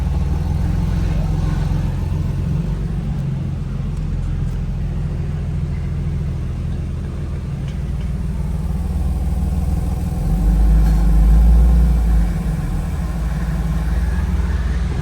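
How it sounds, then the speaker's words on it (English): A Lexus IS300 with a budget manual gearbox swap rumbles as it moves off, its engine holding a steady low drone that swells near the end as the slipping clutch lets the revs rise. "You can hear the clutch slipping on it."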